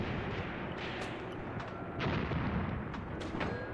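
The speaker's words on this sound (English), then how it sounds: "The mortars are still engaging." Mortars firing in the war game Graviteam Tactics: Mius Front, a dense rumbling battle din with repeated muffled thumps and sharper cracks over continuous low roar.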